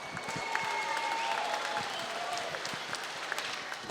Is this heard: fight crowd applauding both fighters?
yes